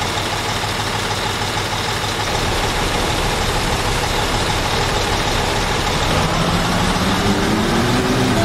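A racing motorboat engine in the Construction Simulator video game drones loud and steady, a rough low roar that rises slightly in pitch toward the end.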